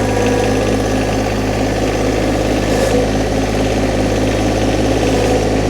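A John Deere 1025R compact tractor strains while hauling a heavy log, its engine giving a loud, close, steady diesel drone with a constant low throb and no pauses.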